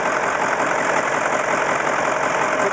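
A Caterpillar 613C scraper engine with a misfiring cylinder runs with a loud, rough, uneven chuffing drone, heard close up and steady for the whole stretch without talk.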